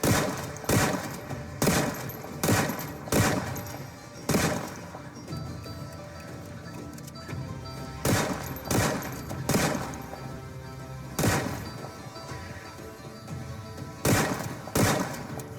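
Shotgun blasts against zombies in the video game Project Zomboid, a dozen or so sharp booming shots at uneven intervals, often in pairs, over a low continuous background.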